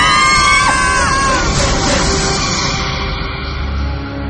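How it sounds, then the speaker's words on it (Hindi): A horror-story scream sound effect, a loud shrill sustained cry that slides down and fades over a few seconds into a dense echoing noise bed. "हमारी तो चीख निकल गई।"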